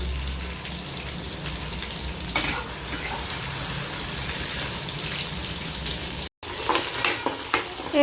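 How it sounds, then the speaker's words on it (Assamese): Onions sizzle steadily in a hot pan, being fried for bitter gourd, with occasional stirring scrapes and a brief cut near the end. "তিতা কেৰেলা ভাজি কৰিব কাৰণে ৰেডি কৰিছোঁ পিঁয়াজ দি দিছোঁ"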